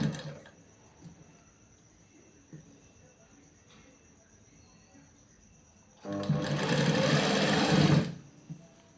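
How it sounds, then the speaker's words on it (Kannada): A sewing machine stitches a clothing alteration at home, running in one loud burst of about two seconds near the end after a quieter stretch of faint handling noise. "ಒಂದು 1/2 ಇಂಚ್ ಅಷ್ಟೇ ಬಿಟ್ಟು ನಾವು ಸ್ವಲ್ಪ ಇದನ್ನ ಸ್ಟಿಚ್ ಮಾಡ್ತಾ ಹೋಗೋಣಂತ"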